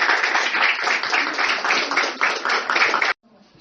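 A church congregation claps steadily for about three seconds, a dense rhythmic patter that stops abruptly, leaving near quiet.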